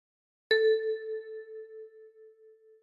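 One plucked kalimba note, key 6 on a 10-key instrument, struck by the left thumb, rings out clearly and decays gradually with a long shimmering tail, close and solo.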